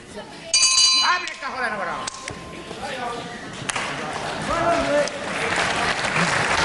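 A boxing ring bell sounds at the end of a round in a bout between Brian Maxine and Mick McMichael, a brief clang amid loud crowd applause and cheering, with a commentator talking over it.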